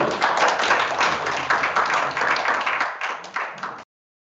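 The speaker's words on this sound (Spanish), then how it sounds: "Un aplauso, por favor, para Rodrigo." Audience applause welcoming a presenter at a webinar on green hydrogen, a steady burst of many hands clapping for about four seconds before stopping abruptly.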